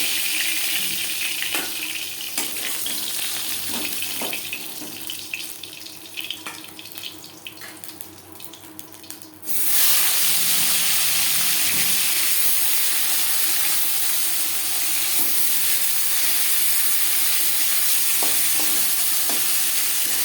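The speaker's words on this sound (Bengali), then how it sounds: "পরের মাছ একইভাবে ভেজে নেব।" Fish frying in a pan: a quieter hiss with scattered pops and clinks builds into a sudden loud, steady sizzle about halfway through, as fresh pieces go into the hot oil. Nobody talks.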